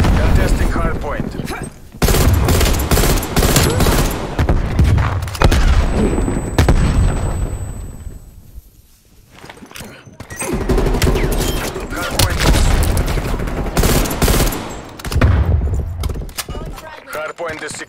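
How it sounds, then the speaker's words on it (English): Frag grenade blast and gunfire during a Hardpoint match in the video game Call of Duty Black Ops Cold War, loud dense volleys of shots with booming impacts, a brief lull, then more heavy firing. "Throwing frag"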